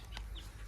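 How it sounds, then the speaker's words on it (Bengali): Free-range desi chickens clucking faintly in a backyard, a brief soft cluck or two over a low rumbling background. "সব মুরগিগুলো চলে আসছে নাকি?"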